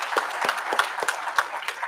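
An audience at a health-conference panel on communicable and non-communicable diseases in Uganda applauds the panelists, close, fairly sparse claps for just under two seconds.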